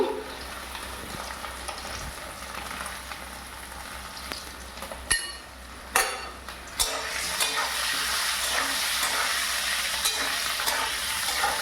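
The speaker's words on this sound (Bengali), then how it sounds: "সামান্য নেড়ে তুলে নিতে হবে" A spatula stirs fish heads and ingredients in a pan for Bengali muri ghonto, producing close scraping and sizzling with a few loud clattering bursts midway, then a fuller, steady hiss without speech.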